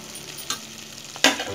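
A spiced paste goes into a pan of frying mixed vegetables and mutton curry. A steady close sizzle is broken by a couple of short scraping stirs, with no talking.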